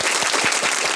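Loud, dense applause from a studio audience at a podcast taping, a steady wash of clapping that fills the whole moment with no talk over it.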